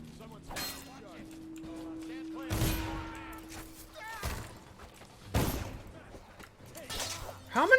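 Sharp, scattered gunshots ring out at irregular intervals in the stealth game Dishonored, each crack loud and separate, with thuds and a voice in between.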